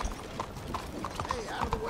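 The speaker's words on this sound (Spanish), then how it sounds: "es complicado controlar a un caballo" A horse's hooves clip-clop along a path in the Red Dead Redemption 2 video game, a quick, even stream of close hoofbeats carrying on under a voice.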